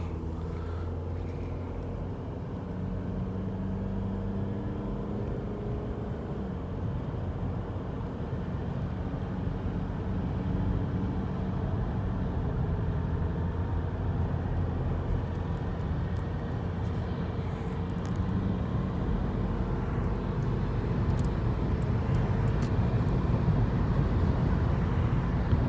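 Inside a 2006 Honda Accord LX with new tires, cruising on a windy day at about 75 mph, a steady low road rumble and wind roar fill the cabin, growing slightly louder over time with no talking.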